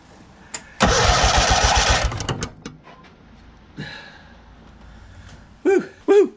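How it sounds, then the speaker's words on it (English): Engine of a John Deere 317 garden tractor being cranked over by the starter, a loud whirring burst of about a second that fades, followed by faint clicks and knocks. "we're gonna crank it a few times just to see if we can get some fuel to come out of the fuel line here"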